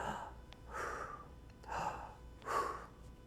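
Quick, shallow breaths drawn through the chest, demonstrating breathing that never uses the diaphragm; three or four audible inhales come in a steady rhythm, close and fairly soft, with no talk over them.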